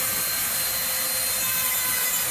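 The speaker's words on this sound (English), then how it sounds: "I got a sanding wheel on here" A sanding wheel grinds steadily against RC car body material, a harsh, loud, continuous abrasive roar with no pauses.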